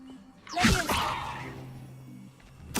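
Spell cast in Hogwarts Legacy for the Leviosa levitation charm: a soft magical whoosh swells from near silence, trails off into a fading shimmer, then a fresh burst rises at the end.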